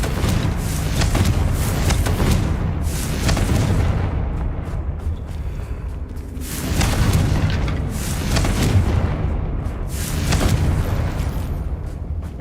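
Bombard and Confringo spell blasts go off in a Hogwarts Legacy fight as a run of heavy booming impacts and bursts, swelling and fading in waves over a dense rumbling background.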